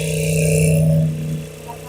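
A sewing machine stitching a pocket onto palazzo pants hums steadily at close range, then slows and fades toward the end.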